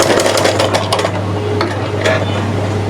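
A sewing machine runs steadily while stitching pillow cover pieces together, with a close, loud mechanical hum and rapid needle clatter continuing throughout.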